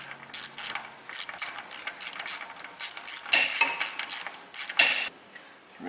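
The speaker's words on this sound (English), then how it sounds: "I don't use this ratchet that often," A ratchet wrench clicks in quick, uneven bursts of metallic ratcheting during engine mount repair work, loud and close, with no talking.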